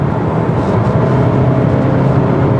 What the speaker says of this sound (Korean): 이렇게 배기음이 생각보다 좀 꽤 크게 들린다